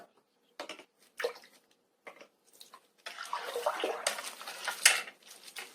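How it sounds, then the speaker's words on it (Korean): Plum extract pours from a bottle into yeolmu kimchi in a bowl. Several short liquid bursts come first, then a longer, louder splashing pour, close by with no talking. "매실액 기스 좀 넣고요"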